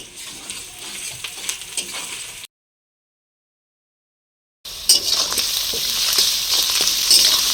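Onions fry in a pan for chicken curry, giving a steady hissing sizzle with light stirring scrapes; the sound drops to total silence for about two seconds midway, then returns louder and brighter.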